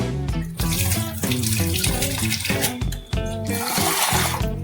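Tap water pours steadily into a kitchen sink as mung dal is rinsed, a loud, continuous rush that fills the whole stretch with only one brief dip.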